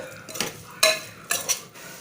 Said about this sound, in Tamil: நல்லா வதக்கிக்கலாம் இந்த மசாலாவோட சேர்த்து